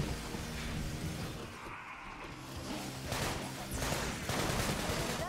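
Gunfire from the Sunset Overdrive video game rattles in dense bursts with whooshes and crashes, a busy, loud layer of shots that keeps going throughout, mixed with game effects and no clear talking over it.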